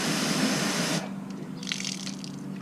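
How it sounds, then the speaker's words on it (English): Pressure washer spraying water while cleaning an exhaust tip: a loud broadband hissing spray for about a second, then quieter splashing and trickling close by. "I'm going to take my pressure washer and spray a little bit."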